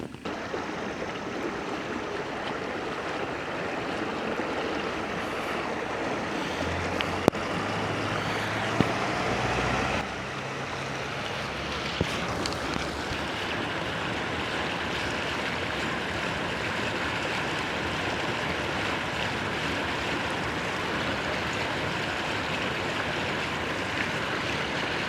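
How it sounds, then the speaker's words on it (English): An XTR NT600 kayak paddled fast across a pond, heard as a steady, loud rush of water and wind noise throughout with a few faint knocks and no speech. "I'm going to show you guys how fast it takes me to fly across one end of the pond to the other."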